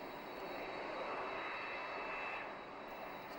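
An Airbus airliner cruising at about 900 km/h gives off a steady, broadband jet engine roar with a faint high whine running through it, constant and fairly quiet, with no talk.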